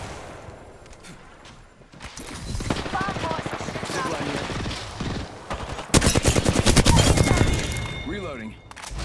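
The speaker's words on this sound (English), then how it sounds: "Joker's shooting at me." Rapid bursts of gunfire from a firefight in the battle royale game Apex Legends, loud automatic volleys with sharp repeated shots and brief pauses, the heaviest burst arriving late, with in-game voice lines and effects mixed in.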